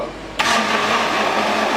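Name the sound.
blender mixing banana, strawberry and vanilla for ice cream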